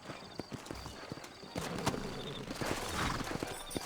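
Horse hooves clip-clop on the ground in the Red Dead Redemption video game, near and fairly steady, under a busy layer of ambient town noise with occasional sharper knocks.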